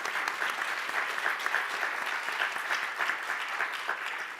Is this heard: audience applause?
yes